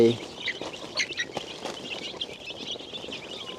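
Chicks chirping inside an insect-net enclosure where young chickens are fed termites and seed, a busy cluster of thin high peeps close by over a steady background, with a voice speaking faintly.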